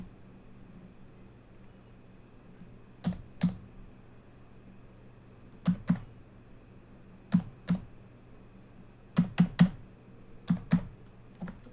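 Keys on a computer keyboard tapped in short sparse clusters of two to four clicks with pauses between, entering an ID card number; close, crisp and quiet over a faint room hiss, with no talking.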